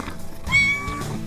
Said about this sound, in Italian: The kitten.